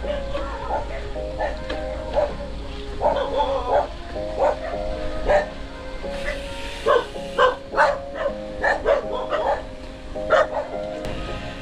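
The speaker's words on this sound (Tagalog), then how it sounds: "Kala ko abulin tayo ng aso eh." Dog barking repeatedly outdoors along a trail after a cycling climb, a series of short sharp bow-wow barks and yips that cluster toward the end, moderately near, with faint background noise.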